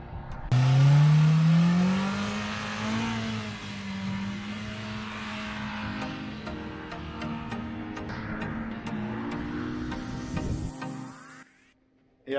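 A Pro R side-by-side at St. Anthony throttles up with a loud, rising engine roar, then holds a steady drone as it drives off and fades before the sound cuts out.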